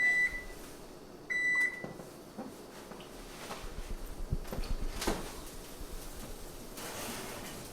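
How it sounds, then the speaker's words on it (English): Two short electronic beeps from a microwave oven, close and clear, followed by quiet clattering and faint background rumble. "It's going to go beep in about 2 seconds."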